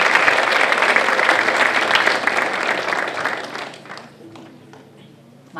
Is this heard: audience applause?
yes